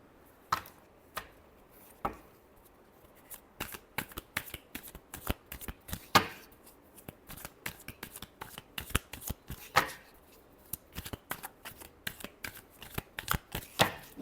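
Tarot cards are shuffled by hand in quick bursts of sharp riffling clicks and flutters, close and fairly quiet, with short pauses between shuffles.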